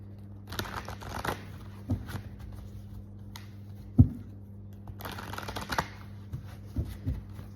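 Tarot cards being shuffled by hand in a quiet room, giving soft riffling and flicking bursts with a sharper snap partway through, close and clear with no talking.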